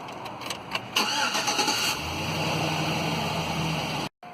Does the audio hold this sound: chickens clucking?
no